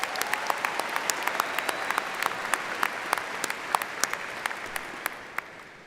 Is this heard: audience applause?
yes